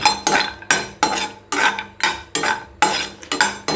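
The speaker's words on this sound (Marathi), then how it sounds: "पुलाव भात बनवताना 7-8 काजू मी थोडेसे फ्राय करून घेणार आहे." Cashews frying in about half a cup of oil for pulao, heard as rhythmic metal spoon-on-pan stirring strokes roughly every half second, close and clear over a faint sizzle, with no speech.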